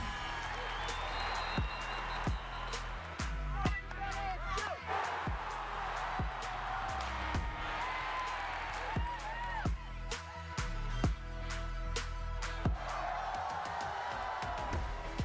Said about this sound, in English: Keep the cheering going